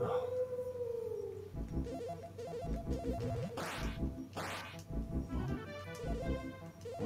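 A Cerberus hellhound in a video game lets out a rising, drawn-out howl, followed by snarling, clattering game noise and sharp whooshing sweeps.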